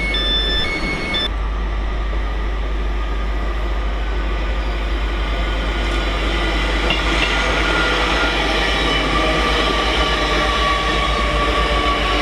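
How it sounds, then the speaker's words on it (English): Train 801220 on the East Coast Main Line, working the service to Edinburgh Waverley, rumbling past close and loud with a continuous roar and rail noise from start to finish. "It's 801220. Working the service to Edinburgh Waverley."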